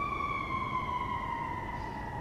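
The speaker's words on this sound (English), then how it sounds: "And there goes a siren, because we're right next to the fire department." A fire engine siren wails steadily in a slow descending tone, moderately loud and somewhat distant, passing near a fire station close to an outdoor bobcat rehabilitation enclosure.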